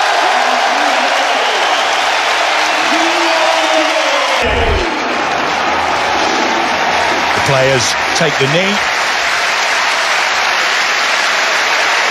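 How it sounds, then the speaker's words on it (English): Home fans at the Emirates Stadium applaud Arsenal before a Premier League match against Chelsea as the players take the knee, a broad roar of clapping and crowd noise under a commentator's voice. "to resounding applause around the Emirates Stadium."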